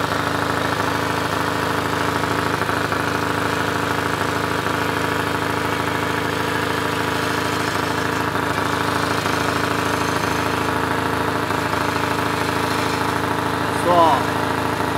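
A Ford Escort Hobby with a CHT 1.0 engine and Weber 460 carburetor idles steadily as its rpm is adjusted, a continuous close hum with a brief change in pitch near the end.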